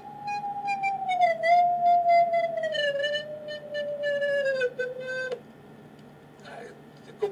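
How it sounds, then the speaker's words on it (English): A sonified carbon nanotube sounds as a clear electronic tone that slides and steps downward as single electrons are added, with a bright harmonic overlay and a sharp click before a quieter, fading stretch. "what you hear are individual quantum electrons"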